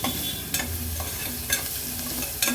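Half an onion frying in oil with garlic and green chilli for dal palak, a steady sizzle broken by several sharp scraping stirs of a spoon in the pan.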